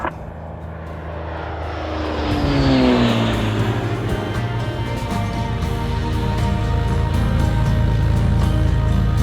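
A small propeller airplane's engine spools up and settles into a loud, steady droning roar with a buzzing whine, close by and with no voices.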